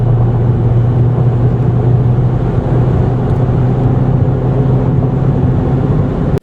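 A 2015 Honda Civic Si engine drones steadily under acceleration, a constant loud low hum with road and wind noise and no voices.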